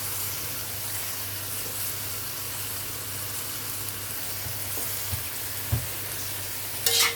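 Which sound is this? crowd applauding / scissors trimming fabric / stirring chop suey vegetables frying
stirring chop suey vegetables frying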